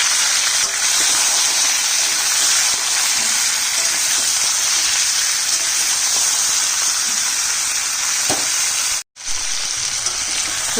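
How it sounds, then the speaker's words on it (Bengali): Mixed vegetables and potato hiss and sizzle in oil in a pan, a dense, unbroken frying noise close by that cuts out sharply for a moment near the end. "সবজি ভাজা হয়ে গেছে"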